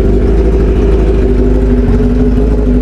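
A motorcycle engine idles steadily just after a cold start, left unrevved to warm up, with a loud, even low rumble and no voices.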